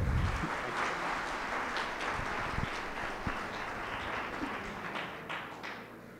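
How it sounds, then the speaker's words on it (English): Clapping from an audience welcoming a speaker, moderate and steady with a few louder taps and thumps nearby, continuing evenly throughout without talk. "So could you all give a warm round of applause for Dr."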